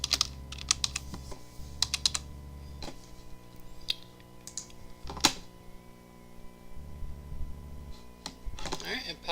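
Bursts of keyboard typing while code is entered on a computer, with quick clusters of crisp clicks and pauses between them, close and moderately loud.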